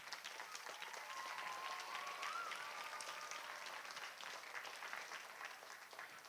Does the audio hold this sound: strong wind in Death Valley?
no